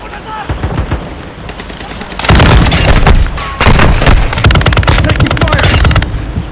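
Rapid automatic gunfire and heavy booms rattle through a Call of Duty Modern Warfare II firefight, loud close bursts that thicken into a sustained barrage after a sparser opening.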